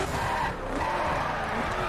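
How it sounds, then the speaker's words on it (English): A Saleen S7 supercar in The Crew racing game, its engine roaring continuously with tires skidding and squealing, loud and close throughout. "Engine sounds a little off because,"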